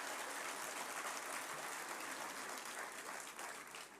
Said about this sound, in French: c'était un peu timide comme applaudissement